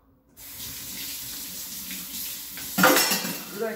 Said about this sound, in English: you never have to clean the Ninja, you just put it on the water and it cleans itself